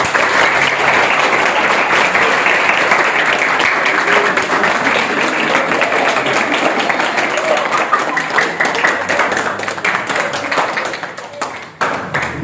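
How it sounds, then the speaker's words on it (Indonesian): Studio audience at an I Love Pesantren broadcast from an Islamic boarding school in Sawangan breaks into loud, sustained applause, dense clapping filling the room before thinning out near the end. "ya tepuk tangannya."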